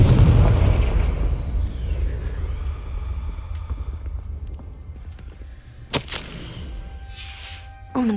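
Confringo explosion spell cast in Hogwarts Legacy, a loud booming blast at the start that rumbles and fades, followed by a sharp crack near six seconds and another burst at the end, with a ringing magical shimmer between.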